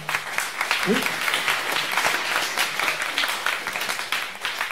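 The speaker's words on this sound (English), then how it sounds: "Give another round of applause there." Meetup crowd at Hacker Dojo applauds the presenters with sustained clapping and scattered cheers, a brief voice or whistle near the start, tapering slightly toward the end.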